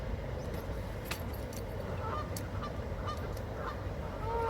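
Geese honking repeatedly at a distance over a steady outdoor rumble at a park lake, with scattered calls overlapping throughout.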